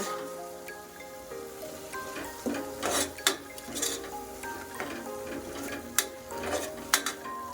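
Ground masala and softened tomato being stirred in a pan, with a spoon clinking and scraping against the metal in irregular bursts, close and fairly quiet, with no voices.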